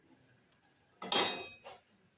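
A spoon stirs liquid milk into melted ghee in a pan, making a couple of brief metallic scrapes and clinks, one louder sweep near the middle, faint and close, with no talking.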